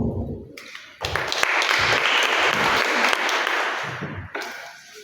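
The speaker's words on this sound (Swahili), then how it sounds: "Pigie makofi" A church congregation breaks into applause during a Bible reading, a dense, sustained round of clapping of several seconds, with a voice heard briefly just before and just after.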